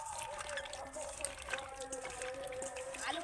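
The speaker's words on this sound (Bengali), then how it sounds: "হাত দিয়ে দিয়ে এইভাবে ওগড়ে ওগড়ে আমি ধুয়ে নেব।" Raw potatoes being washed by hand in water, with continuous soft sloshing and trickling close by at low volume.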